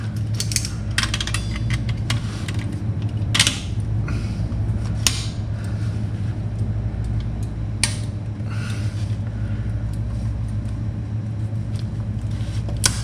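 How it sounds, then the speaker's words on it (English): Metal clicks and ratcheting taps from a muffler clamp being tightened on a 1977 Pontiac Trans Am, scattered irregular ticks over a steady low hum, close by. "I have to clamp the muffler clamp."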